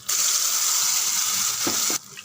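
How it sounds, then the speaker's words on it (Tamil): Water pours from a grinder jar into garlic tomato chutney cooking in a pan, a steady close splashing stream for about two seconds that cuts off abruptly. "ஜாரில் கொஞ்சம் தண்ணி விட்டு அதையும் சேர்த்துக்கலாம்"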